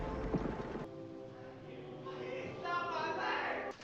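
Horse hooves clip-clop on a battlefield in the Civil War film Glory, a brief run of steady hoof beats heard alongside a horse's strained whinny and faint voices.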